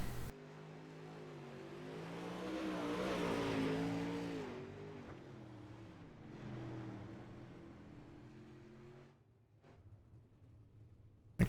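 Dirt super late model race cars on a dirt racetrack, engines roaring and swelling as they pass, with a loud surge then fading drone and another car rising toward the end, no voices.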